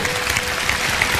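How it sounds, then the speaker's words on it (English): Audience applause in a large crowd at a motivational talk, a dense steady wash of clapping hands heard up close and filling the whole moment. "So I thank you for your applause."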